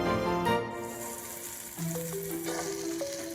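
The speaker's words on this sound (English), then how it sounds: "The last step is to fry off 500 grams of chestnut mushrooms in some sizzling butter." Chestnut mushrooms, about 500 grams, frying in sizzling butter in a pan, a steady broadband hiss that swells as they land, with a musical tone running beneath throughout.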